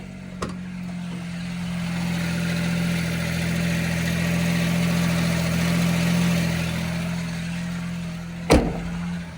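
A Mazda RX-7 rotary engine idles roughly with a steady low drone and a slightly uneven, chattering pulse, bracketed by two brief clunks.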